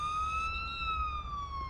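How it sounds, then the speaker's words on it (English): An ambulance siren in Police Simulator: Patrol Officers, a clear, steady wailing tone slowly falling in pitch, heard at moderate distance over low background rumble. "Sounds like that ambulance is going to go all the way around to get"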